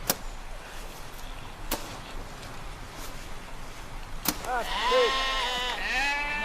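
Several sheep bleat close by with wavering cries in the second half, after a few sharp knocks and a quiet snowy outdoor background.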